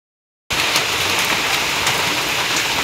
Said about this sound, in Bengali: বৃষ্টি নামছে